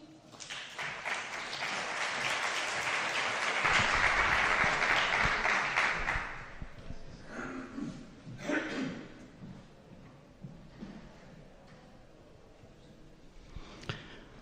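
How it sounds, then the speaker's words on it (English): Audience applause at a pitch competition final for a startup presenter, a dense burst of clapping that swells for about six seconds, then thins into scattered claps and fades. "A big applause for him."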